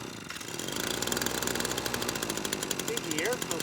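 ECHO PB-260L leaf blower being pull-started, a small two-stroke engine sputtering and chugging in rapid, uneven bursts as it tries to catch, fairly close and loud, with a brief voice near the end.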